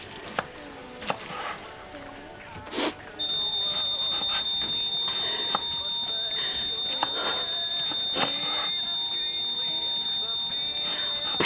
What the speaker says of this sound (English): Bloody smoke alarm.